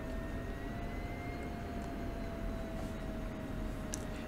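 An F-16C Viper jet in DCS World gives a steady, fairly quiet turbine drone with a thin high whine above a low rumble, unchanging and with no talk.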